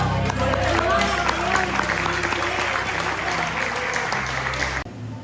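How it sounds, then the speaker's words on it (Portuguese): A Baptist church congregation at an anniversary service applauds in praise, a full, continuous wash of clapping over a low musical drone, ending suddenly near the close. "Você pode aplaudir ao Senhor?"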